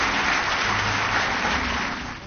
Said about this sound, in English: with applause especially heavy for Michael Keaton, Eddie Redmayne, and Robert Duvall.